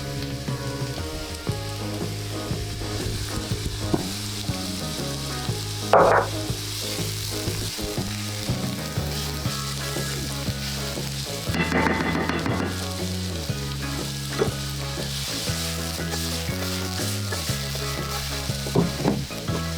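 Half an onion and finely chopped garlic sizzle steadily in olive oil in a pan, a constant close hiss with occasional stirring scrapes and background music, no talking.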